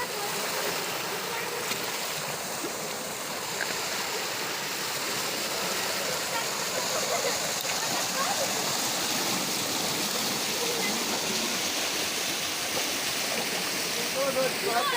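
A waterfall on a rocky climb sends out a steady, broad rush of falling water that stays loud and even, close by, and runs the whole time with no talking over it.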